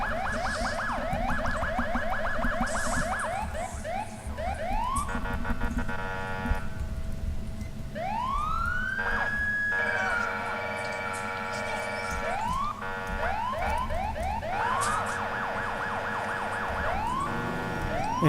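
An ELS-modded police car siren in a video game switches between wail, yelp and phaser tones and adds short air-horn blasts, loud and continuous throughout.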